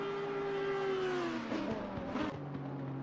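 Race cars, including a Ferrari, in a racing video game at the Nurburgring: a high engine whine sweeps down in pitch as a car passes, then rough revving and gear changes, fairly faint and without talk.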